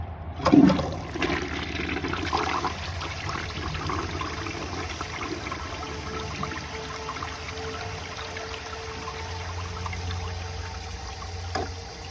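A 1953 Gerber Arlington toilet flushing, with a sharp lever clunk followed by a steady rush and gurgle of water draining and the tank refilling, moderately quiet and alone.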